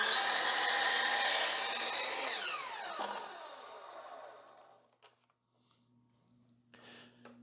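A miter saw cuts through wood for building beehive entrance reducers: a loud, sustained whine as the blade bites, then a descending spin-down fading over several seconds into quiet with faint handling noises.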